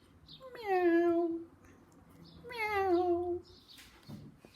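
A storyteller's voice imitates a cat meowing, giving two drawn-out, plaintive meows with a pause between them, close and clear.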